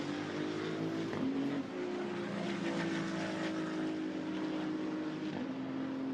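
GT2 race cars, a Maserati and a Mercedes, racing at Hockenheim, engines roaring in a continuous loud drone with a pitch drop and shift as a car brakes and downshifts, then pulls away again.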